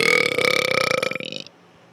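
One long, loud, rumbling burp sits close to the listener, rolling on for about a second and a half before trailing off into near silence.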